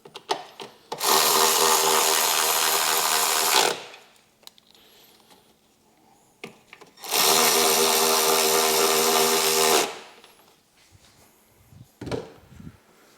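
Power tool driving two bolts back in on a Harley-Davidson, two loud sustained whirring bursts of about three seconds each, close up, separated by quiet handling clicks.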